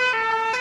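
A cartoon rescue helicopter in a children's animated show sounds a loud, steady siren with rich harmonic tones and a slight swell in pitch, brief and alone with no talk.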